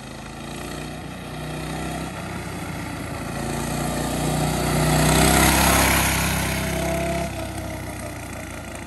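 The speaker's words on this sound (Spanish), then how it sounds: "ahí anda mi hijo, miren, loqueando con la moto" A motorbike engine ridden by a boy around a Florida neighborhood drones continuously, swelling louder midway as it passes nearer, then easing back to a steady hum.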